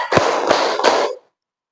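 A classroom of students claps hands together in unison three times, quick and fairly loud, with sharp overlapping slaps and a noisy wash between them, then silence.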